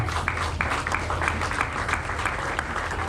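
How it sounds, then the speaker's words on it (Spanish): Congregation applause in a church during a Spanish-language sermon, a dense, even roar of many hands clapping at once, steady and full from start to finish. "denle un aplauso al Señor."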